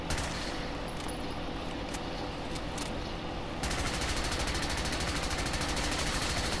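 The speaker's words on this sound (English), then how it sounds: "See the explosions going off?" Continuous rapid gunfire and explosive bursts in Fallout 4 from a modded weapon, a dense rattling barrage that grows harsher and more regular partway through.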